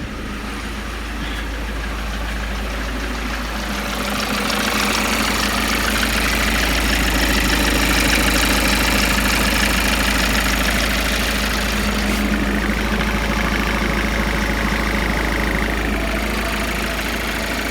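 A Ford Mondeo Mk5 2L diesel with a faulty oil pressure control solenoid idles steadily and close up, a constant low diesel rumble that swells slightly after a few seconds, with no one talking.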